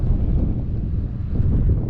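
Wind buffets the microphone on a riverfront trail along the Mississippi Greenway in St. Louis, a loud, steady low rumble filling the whole moment.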